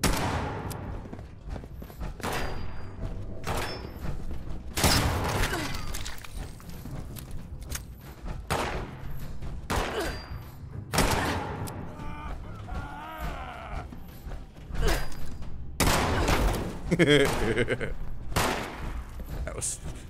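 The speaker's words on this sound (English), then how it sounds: "How are you shooting me?" Gunfire in the Fallout 76 video game: a run of sharp shots and bursts, fairly loud, firing at irregular intervals over about twenty seconds, with no talk.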